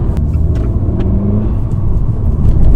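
A Fiat 595 Competizione with an Akrapovic exhaust drones loudly and close, its engine note steady with a slight rise toward the end and a few sharp exhaust pops.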